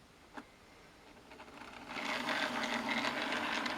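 A Class 37 model railway locomotive on a loft layout: near silence and a faint click, then a steady whirring rumble of motor and wheels that grows and holds as it runs along the track.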